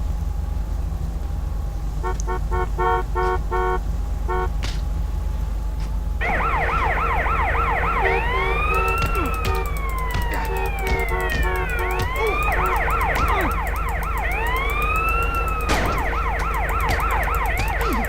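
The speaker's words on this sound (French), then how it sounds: "pompiers vont donc débarquer." Fire engine and emergency sirens wail and sweep as the rescue vehicles arrive in the video game GTA San Andreas, with short horn toots early on, then loud overlapping rising-falling siren tones over a steady engine rumble, with no talk.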